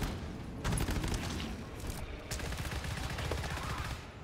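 Rapid gunfire crackles in the co-op shooter GTFO, with dense automatic bursts and booming shots that keep going with no pauses, loud and close, while players can faintly be heard talking underneath.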